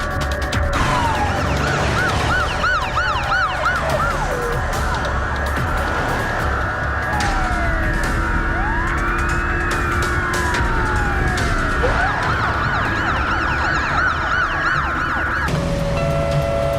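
Ambulance siren wailing continuously, its pitch sweeping up and down in repeated cycles, loud and close over traffic and engine noise, changing tone briefly near the end.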